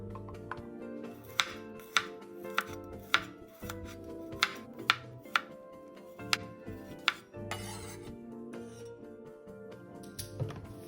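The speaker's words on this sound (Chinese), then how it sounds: "蒜瓣2个，切片后备用" Knife slicing two garlic cloves on a board, giving soft, sparse, close taps in an irregular rhythm over a quiet kitchen background, with no talking.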